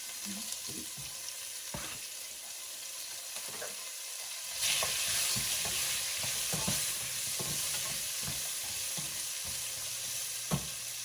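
Onions tossed into a pot beside seared oxtails for Southern-style braised oxtails, crackling into a louder, brighter sizzle partway through, with scattered utensil clinks and stirring scrapes nearby and no voices.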